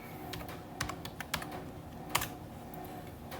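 Python code being typed on a computer keyboard produces quiet, irregular key clicks with a few sharper taps against faint room noise, without speech.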